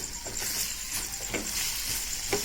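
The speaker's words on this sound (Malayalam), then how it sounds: "വെണ്ടയ്ക്ക നന്നായി വഴറ്റിയെടുക്കുക." Okra (ladyfinger) sautés in hot oil in a pan with a steady, soft sizzle, broken by a few scraping stirs of a spatula, heard close up with no talking.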